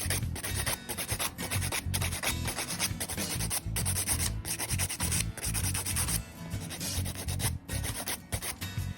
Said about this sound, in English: So we're filing that top layer off.